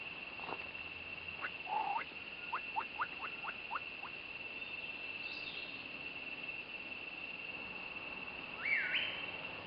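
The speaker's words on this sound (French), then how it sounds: "le sifflement que tu viens d'entendre, c'est un oiseau" A bird in the Costa Rican jungle at Punta Leona gives a series of short, thin whistled notes in quick succession, followed later by a rising whistle, over a soft buzzing cicada background.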